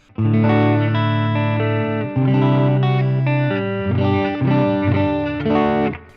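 Clean electric guitar, a Latitude GoldTop Les Paul, through a US Deluxe amplifier on its normal tone, strummed chords ringing out with sustained harmonics and light reverb, steady and fairly loud, no voices.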